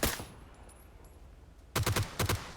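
Gunfire in a battle royale shooter game: one sharp shot at the start, then a lull and several quick, loud bursts of shots in a row, with no talking.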